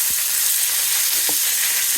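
Sliced onions fry in a hot pan, a steady bright sizzle with a few soft stirring scrapes, close and continuous with no talking.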